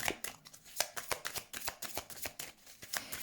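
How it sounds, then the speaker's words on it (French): Tarot cards handled and laid down on a table for a reading, a quick run of crisp papery flicks and soft slaps close by, with no voices. "Je vais mettre une dernière carte et ensuite on fera le tirage."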